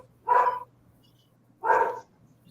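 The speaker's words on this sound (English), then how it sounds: "Somebody needs to feed the dog." A dog barks twice, close and loud, each bark a short full bow-wow separated by about a second of quiet with a faint low hum underneath.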